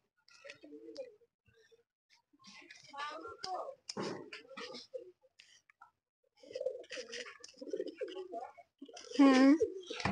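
Pigeons kept in a fitted home enclosure give soft, low coos between stretches of nearby human talk, with one clear, rolling coo standing out near the end.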